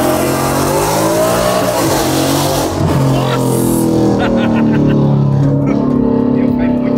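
A Mustang engine revs hard and loud up close, pitch rising and falling as it accelerates, with a voice speaking over it.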